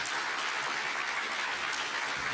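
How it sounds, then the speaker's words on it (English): An audience at a panel event applauds the panelists with steady, dense clapping that holds at an even level throughout. "Can we have a round of applause for our panelists"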